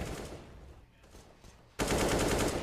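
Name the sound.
AK rifle spraying through smoke, Counter-Strike video game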